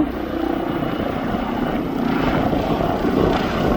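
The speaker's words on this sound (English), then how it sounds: "I think this is the helicopter that comes in every day." A children's ambulance helicopter arriving at East Midlands Airport, its rotor thumping steadily with a low engine drone, holding a constant roar that swells slightly toward the end.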